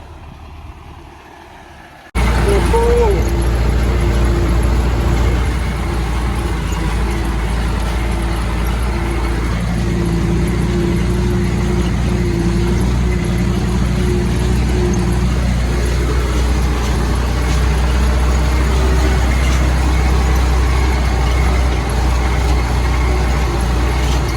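A small combined cultivator engine runs steadily while the machine is driven, a continuous low mechanical drone holding at a constant level after a brief quieter start.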